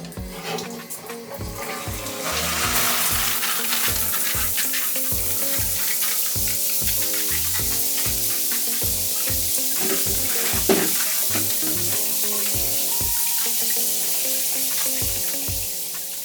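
A newly installed shower head sprays water steadily during a leak test, a continuous loud hiss of falling water filling the clip alone, with no talk.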